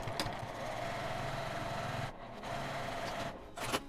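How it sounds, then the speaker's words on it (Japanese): A sewing machine edge-stitches a seam on a zippered pocket tissue case, running with a quiet, steady mechanical whir that pauses briefly twice before resuming. "縫い代を表側に倒してこちらに端ミシンをかけます"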